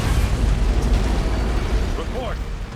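An antimatter charge detonates in Halo: CE, a loud, close, rumbling explosion that fills the whole moment with deep low boom and sustained roar, fading slightly toward the end.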